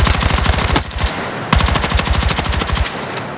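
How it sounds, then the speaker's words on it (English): An MP5 submachine gun fires in Battlefield 6 in two loud, rapid full-auto bursts, each roughly a second and a half long and separated by a brief pause, with no talking over them. "if I switch to the SMG, let's just go to the MP5."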